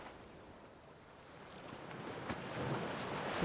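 Ocean waves wash ashore in a broad, hissing surge that slowly swells louder, with soft wind-like noise and no voices.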